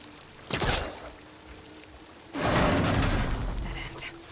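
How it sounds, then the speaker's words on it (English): Water gushes from a vent in the video game Horizon Forbidden West, with a short splashing burst followed by a louder, sustained pour that carries on steadily. "Water's coming from that vent."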